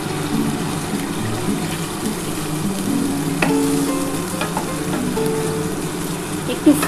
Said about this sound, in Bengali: এবার আমি এই মশলার যে জলটা আছে এই জলটা দিয়ে দিচ্ছি